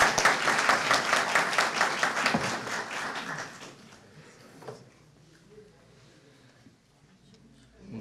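Audience applause at a political gathering in Dalaman, a lively burst of many hands clapping for about three and a half seconds that quickly dies away, leaving quiet room noise and a few faint sounds.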